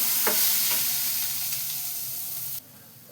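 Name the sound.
frying chopped green chilli and garlic in a pan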